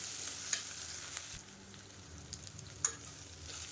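Onions sautéing in a pan for a Madurai-style chicken uppu curry, a soft steady sizzle with a few light stirring scrapes, close but quiet.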